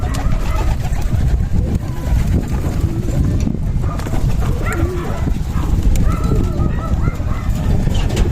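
Racing pigeons cooing in a hot loft, with soft overlapping coos, flapping and shuffling close by, plus occasional dog-like barks in a busy background.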